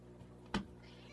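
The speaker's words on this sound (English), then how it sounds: "Never heard you meow that way." A pet cat gives a single short, sharp meow indoors, loud and brief against quiet background.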